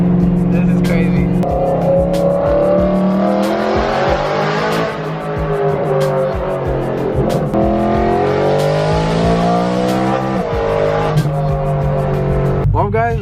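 A BMW M3 with a newly repaired transmission drives on the road, its engine rising and falling through gear changes with rolling tire and road noise, while people talk throughout.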